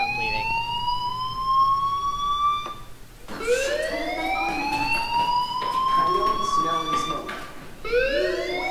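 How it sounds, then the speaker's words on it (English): A rising, wailing fire alarm in the video game Life Is Strange sweeps upward over and over in repeated cycles, loud and continuous, with faint background noise beneath. "Hey, do you hear that fire alarm?"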